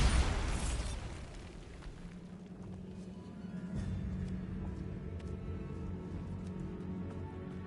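The Bombarda explosion spell from Hogwarts Legacy goes off in a loud burst at the start, then a long rumbling decay with scattered debris clatter lingers underneath.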